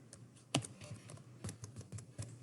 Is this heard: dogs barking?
no